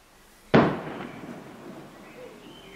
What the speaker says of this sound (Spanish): Voladores para arriba, ¿eh?